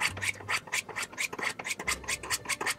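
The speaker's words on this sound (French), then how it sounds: "n'hésitez pas à passer un coup de torchon sur votre fusil" Cloth wiped repeatedly along a knife-sharpening steel to clear metal filings, a steady series of close, rasping rubbing strokes in a quick rhythm with no talking.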